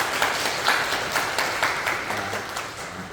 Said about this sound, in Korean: 따뜻하게 박수로 환영해 주시면